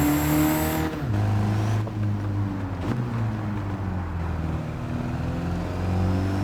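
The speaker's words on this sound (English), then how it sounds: "despite the extremely low power output and how slow this truck is, you're spending most of the lap in 5th and 6th gear." A Mercedes Unimog truck drives in Gran Turismo 7, its engine droning steadily at high gear with a brief shift dip near the start, loud and continuous without speech.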